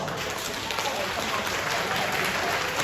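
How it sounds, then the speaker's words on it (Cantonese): Wedding banquet guests applaud together, a dense, even patter of clapping that holds steady from start to finish. "大家俾啲掌聲好嘛？"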